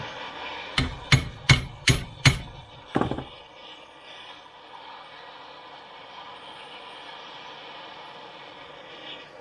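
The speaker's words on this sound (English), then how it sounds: "So by banging the top of it, it's doing 2 things." Six sharp hammer blows strike the top of a seized nut on a 1995 Range Rover Softdash swivel, ringing metallic hits in quick succession, followed by quiet workshop ambience.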